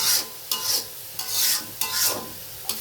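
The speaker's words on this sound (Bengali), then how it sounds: "মশলাটা কষানো শেষ করে তারপরে" Spice masala being fried and stirred (bhuna) in a pan: four close, distinct scraping strokes with sizzling between them, no speech.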